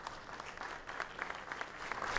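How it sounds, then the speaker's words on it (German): Friendly applause rises from a gathering of the Jewish community in Bratislava welcoming the Pope, a steady patter of many hands clapping at moderate distance. "Freundlicher Beifall"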